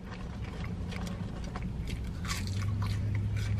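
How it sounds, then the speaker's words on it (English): Crunchy fast-food chips being chewed close to the mic inside a car, giving a steady run of crisp bites and crunches over a low rumble of engine and road noise. "Can you hear that crunch?"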